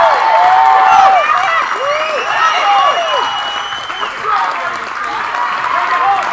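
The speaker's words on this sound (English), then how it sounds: "Love the crowd here. Everyone really getting into it and supporting all the athletes today." A crowd at a 2015 fitness competition in Dover applauds, cheers and whoops continuously throughout, loud and dense, while a commentator talks over the noise.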